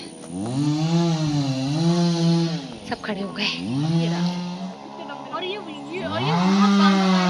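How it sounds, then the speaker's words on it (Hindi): A chainsaw whines and revs steadily in long sustained bursts, rising and falling in pitch as it cuts down trees, with people talking briefly over it. "वो पेड़ ही काट रहे हैं, पेड़ काट रहे हैं, लकड़ी को अलग कर रहे हैं"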